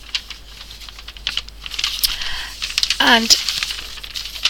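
A roll of stiff brown paper crinkles and rustles in bursts as it is unrolled, fairly close, with a brief voice and a squeaky scrape partway through.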